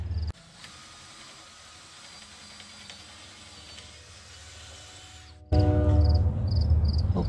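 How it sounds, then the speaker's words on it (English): A power drill bores through a bolt hole during a structural repair, a steady mechanical whine running for several seconds before a louder, harsher burst of drilling near the end. "let's get the top one drilled through, get it put in, and then we'll attach them both from underneath"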